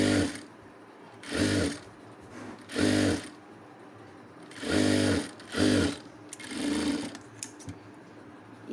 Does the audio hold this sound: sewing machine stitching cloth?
yes